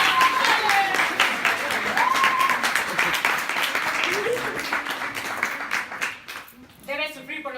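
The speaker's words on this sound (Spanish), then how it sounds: "Aplausos, aplausos." Scattered clapping from a small group keeps up for several seconds under overlapping voices and a brief whistle-like tone, then trails off near the end.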